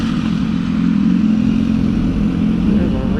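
A motorcycle rides along a road on the way to Embalse El Yeso in Chile, its engine a steady low drone heard close with wind noise throughout and no speech.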